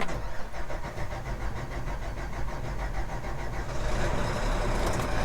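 A cold farm vehicle engine on a harvest day, likely near a combine, cranks slowly and then catches, settling into a steady, loud, close rumble that continues alone to the end.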